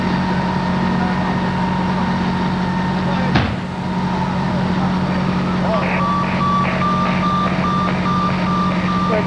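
Reversing beeps from a fire department ladder truck at an oil fire scene, a steady series of evenly spaced tones starting partway through over a loud idling heavy engine, with a sharp thump just before.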